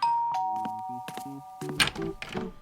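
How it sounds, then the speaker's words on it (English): A doorbell gives a clear two-tone chime at the start, followed by a series of softer tonal sounds and a few knocks. "the doorbell rang"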